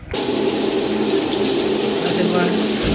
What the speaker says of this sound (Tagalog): i-push mo para lumabas ang tubig